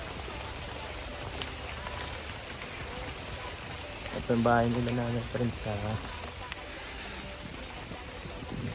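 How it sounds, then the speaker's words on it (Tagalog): Steady heavy rain patters on a surface throughout, with a brief burst of voices partway through. "magmadali na tayo at medyo malakas ang ulan"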